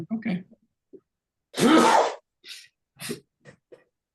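A single sharp sneeze bursts out mid-clip during a planning and zoning meeting, flanked by brief murmured speech and soft vocal noises before and after.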